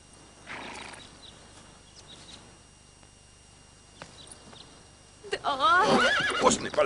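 A horse whinnies loudly and close at the end, after quiet stretches of hoof clip-clops and soft movement, with a spoken voice briefly present early on.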